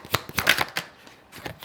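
A deck of tarot cards is shuffled by hand in a quick series of crisp riffling, flapping bursts, close and soft, with no talk over it.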